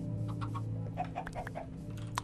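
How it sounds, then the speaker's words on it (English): Minecraft chickens cluck in a short series of soft, clipped calls over a steady low game hum, with no talking. "And then these chickens."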